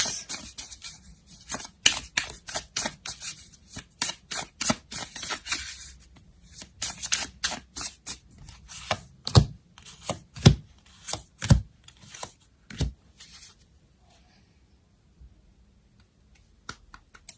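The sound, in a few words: tarot cards being shuffled and laid out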